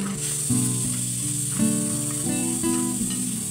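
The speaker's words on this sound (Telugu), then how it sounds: "ఇలా నెయ్యిలో వేయించుకొని తీసేద్దాం" Sago pearls frying in ghee give a steady, even sizzle that runs throughout, with a tonal melodic background layered over it.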